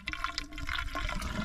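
Water poured into a car's fluid reservoir under the bonnet, a steady close splashing and gurgling fill that runs throughout without any talk.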